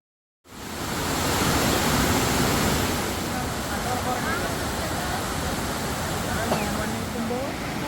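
Water gushes through the opened shutters of Vazhani dam in Kerala during the monsoon, a loud, steady broadband roar that starts suddenly after a brief silence and holds without break.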